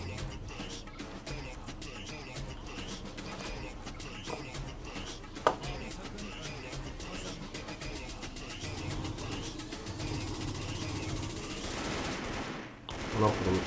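Rapid automatic gunfire in the online shooter Wolf Team, bursts rattling steadily through the whole stretch at moderate loudness, with a voice briefly audible near the end.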